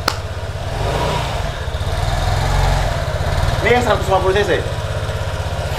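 A Vespa x Dior 125cc scooter idles nearby with a steady, buzzing engine putter that rises slightly partway through, while someone talks over it.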